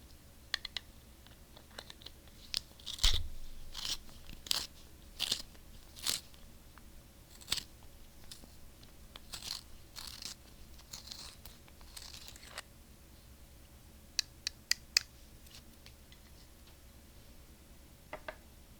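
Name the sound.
sharpening a pencil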